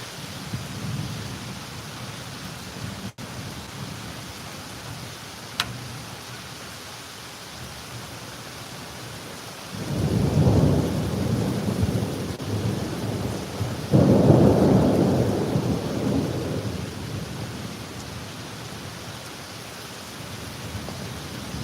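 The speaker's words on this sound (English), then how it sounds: "The screen right beside me is ripped open, and there's just rain blowing on me." Thunderstorm with rain blowing in through a ripped window screen: a steady wash of rain and wind, then two heavy rolling thunder rumbles swelling up midway, loud and close, with no talking.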